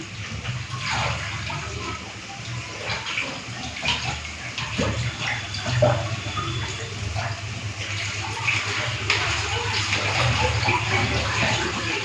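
Water drains and trickles off soaked leafy greens (lote shak) rinsed to remove sand in a home kitchen, a steady close splashing and running-water wash that holds continuously without talk.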